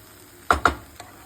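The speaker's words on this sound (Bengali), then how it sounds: "এবার নেড়ে দিই" A spoon or spatula stirs Bengali-style vegetable basanti pulao in a pan, giving two quick scraping strokes close together and then a lighter third touch, with a soft sizzle underneath.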